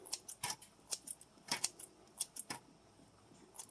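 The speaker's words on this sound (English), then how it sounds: "just take your shears because it's very, very thin and you don't want to get cut" Kitchen shears snip through very thin slices of pepper jack cheese for a Dutch oven Frito pie, a quick irregular series of small crisp clicks and cuts, close and fairly quiet.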